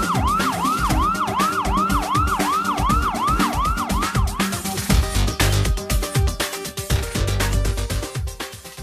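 A police patrol car siren wails loud and close in a steady repeating rising-and-falling cycle, then shifts to a rapid harsh yelping pattern over low rumbling engine noise.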